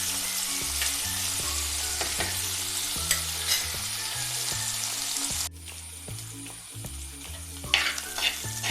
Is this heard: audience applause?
no